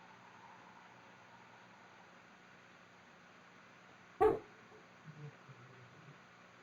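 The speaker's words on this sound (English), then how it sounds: "We've been sent an army of dogs." Dogs bark in the DragonFable video game: one sharp, close bark stands out over a faint steady background hum, followed by a few softer, smaller yips.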